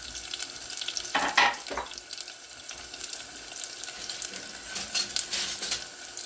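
Red onion frying in a pan and being stirred, a soft sizzle with a few scraping stir strokes in bursts, fairly quiet and with no talking.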